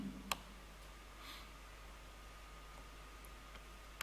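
Faint, sparse computer mouse clicks, a sharp one near the start and a couple more toward the end, over a quiet hiss.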